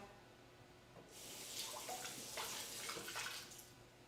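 Delicate fresh fruits for a pavlova being rinsed in water, a steady splashing wash that begins after a second of quiet and runs evenly at moderate level, with no talk over it.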